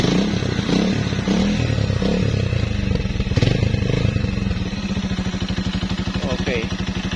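A Rusi Flash 150 motorcycle engine is revved close by, its exhaust rumbling and climbing before settling into a steady, rapid throbbing idle.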